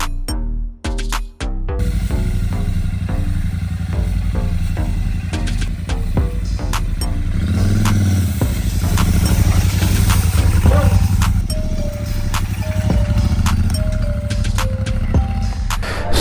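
A Royal Enfield Super Meteor 650 motorcycle is ridden through the city, its engine a steady, close droning hum with scattered clicks and a few brief tonal blips at the start.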